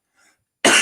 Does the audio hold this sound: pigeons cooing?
no